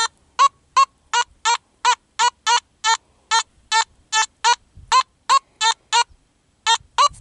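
A Simplex metal detector sounds its signal tone over a buried target: about eighteen short, nasal, evenly spaced beeps, loud and clear with nothing else behind them.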